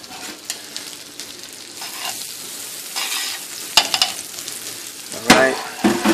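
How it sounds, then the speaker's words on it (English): Garlic sizzles in a hot pan with a steady crackle, broken by sharp bursts of spatter and the scrape of stirring, close and fairly loud. "Now, I add my garlic in here."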